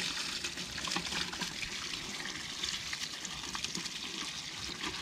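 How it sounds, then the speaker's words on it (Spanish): Water pours out steadily to irrigate a vegetable garden with lettuce, a continuous broadband rushing and trickling close by, with no voices over it. "Acá echa el agua."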